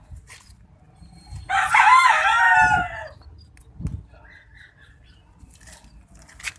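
A backyard pet rooster crows once, loud and close, in a quiet rural yard, followed by a few soft clucks and faint chicken sounds.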